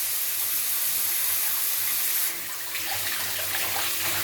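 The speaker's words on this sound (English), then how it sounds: "the shower comes on. So that's for the shower. And this is where you can adjust the flow of the water." Steady broadband hiss of shower water running from a newly installed Delabie thermostatic mixer tap, continuous and fairly close, shifting in tone partway through as the flow is adjusted; no talking.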